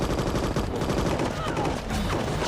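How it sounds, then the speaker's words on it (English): Battle scene from a TV drama: dense gunfire, rapid overlapping shots and bursts crackling nonstop at a loud, even level, with a few faint voices mixed in. "we endure yet another scene where 1 million bullets fly around and only about 2 bullets land"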